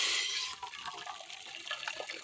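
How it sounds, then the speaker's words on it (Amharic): Boiled water gushes and splashes steadily into an empty cooking pot, close and fairly loud, easing slightly after the first moment. "ያፈላሁት ውሃ አለ። ውሃውን ጨምረዋለሁ።"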